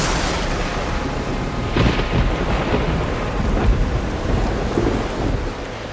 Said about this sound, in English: A person in China captured impressive footage just before the start of a typhoon.